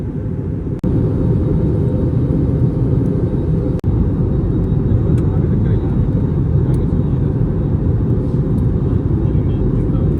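Loud, continuous low roar of an airplane overhead in Amritsar, steady throughout, with two sharp clicks early on.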